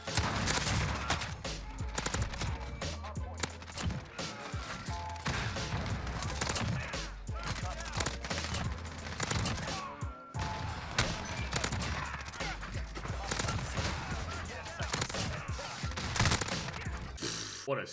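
Rapid video game gunfire, dense bursts of automatic shots and mechanical clatter packed one after another for the whole stretch, loud and close, with a brief pause near the middle.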